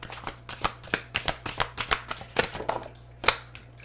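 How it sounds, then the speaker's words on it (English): Tarot cards are riffled and shuffled by hand, making a quick run of crisp, close flicks and slaps that thin out toward the end, with no voice over them. "I'm just guided to pull one more card here for you guys."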